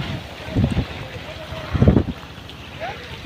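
Strong gusts of wind buffet the microphone outdoors on a village farm, rumbling in two louder bursts with steady blowing between, while a person speaks briefly.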